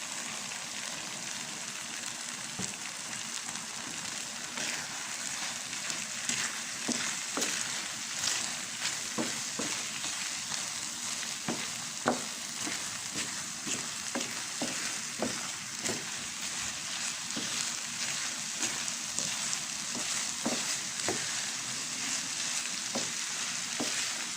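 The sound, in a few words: egg frying with ampalaya (bitter melon)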